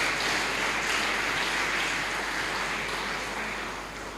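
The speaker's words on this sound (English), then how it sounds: "Can we give an applause for these young ladies and gentlemen?" A graduation audience gives sustained applause for the Year 13 class of 2022, a dense, even wash of many hands clapping that fades slightly toward the end.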